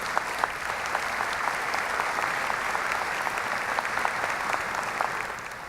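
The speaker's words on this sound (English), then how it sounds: "please give them a round of applause" An audience at a 2018 high school graduation ceremony claps steadily, a dense, even wash of applause from many hands lasting the whole stretch, with no voices.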